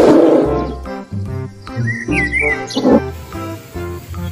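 A toy bear lets out a recorded roar mixed with bird-like chirps and whistles, sounding loud and close against a steady musical backing, with no talking over it.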